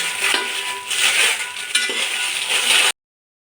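Dried chillies being stirred and roasted in a pan for Malvani masala give a steady dry scraping and rustling with small clinks from the spoon, close and continuous, then stop abruptly near the end.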